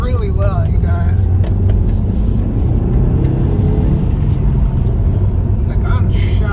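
Interior of a 2005 Volkswagen Passat B5.5 wagon on the move after a suspension overhaul: a constant low road and engine rumble fills the cabin while a person talks over it throughout.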